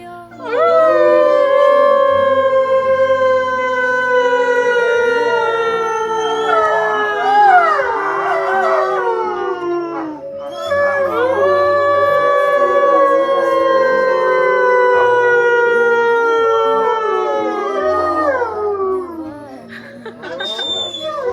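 Wolves at a wolf sanctuary howling together in a loud, close chorus of long overlapping gliding tones that swell, fade near the middle, rise again and carry on to the end.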